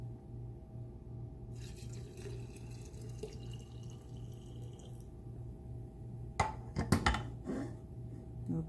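Filtered water splashes and trickles briefly into a pitcher, a short burst of pouring near the end over a low steady hum.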